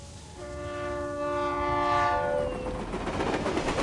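A train in the video game Reverse: 1999, heading to Vienna, sounds a sustained multi-tone horn over a steady rumble of rolling wheels, loud and close, with the horn fading after a few seconds.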